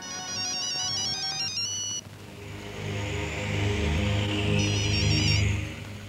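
A phone's electronic ringtone plays a repeating melodic pattern, cuts off, then a second ringing tone rises louder over a low hum.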